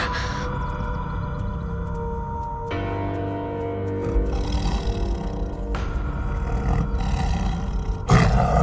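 A tiger roars loudly and at length, deep rumbling growls rising and falling in sustained waves, close and dominant with no voices over it.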